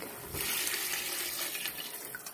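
A steady rushing stream of water pours into a cooking pot of chicken tinola with onion and ginger, continuous and fairly close, with no talking.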